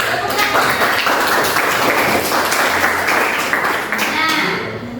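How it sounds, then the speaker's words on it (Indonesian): Applause from a group of listeners in a classroom-style lesson, brisk clapping that swells and then tapers off toward the end, with some voices audible underneath. "Tepuk tangan"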